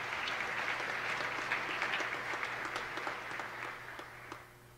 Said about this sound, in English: So please welcome them with a warm applause.